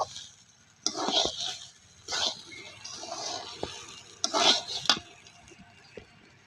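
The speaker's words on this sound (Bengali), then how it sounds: "চাউলটা আমার ভাজা ভাজা হয়ে এসেছে" Rice being fried in a pot for pilau, with several short bursts of stirring and scraping against the pot between quiet pauses, close and moderately loud.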